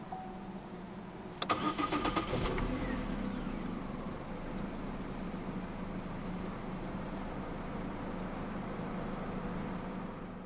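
A 2014 Vauxhall Insignia 1.8i 16v VVT petrol engine started with the key: a brief cranking whir, then a catch into a steady, fairly quiet idle that carries on alone.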